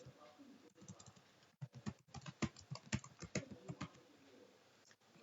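Typing on a computer keyboard: a busy run of close, crisp keystrokes in irregular bursts, soft and slightly muffled, with a brief lull before the clicks resume.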